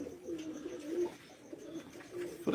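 Racing pigeons on a Punjab rooftop coo softly in short, repeated rolling phrases, fairly faint and near, with a sharper burst right at the end.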